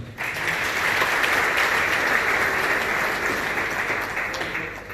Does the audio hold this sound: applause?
yes